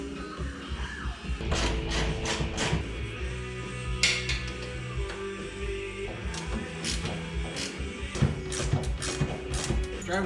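A ratchet tightens down car seat bracket bolts during interior work, producing quiet bursts of rapid clicking separated by short pauses, with faint background noise.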